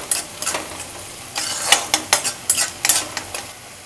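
Ginger-garlic paste is stirred and sautéed in a pan over a medium flame. Rhythmic spatula scrapes and short sizzling bursts come close and clear, with no talking.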